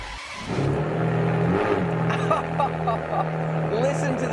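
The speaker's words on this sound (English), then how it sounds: "Obviously, we're not gonna drive this 353-mile Enzo, but we are gonna get to fire it up." A Ferrari Enzo's 6-liter V12 fires up and settles into a loud, steady idle drone close by. Faint voices sit in the background.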